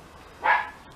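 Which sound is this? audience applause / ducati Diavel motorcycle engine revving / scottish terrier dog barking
scottish terrier dog barking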